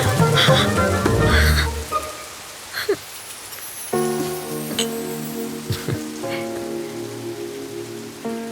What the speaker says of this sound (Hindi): बारिश हो रही है, जल्दी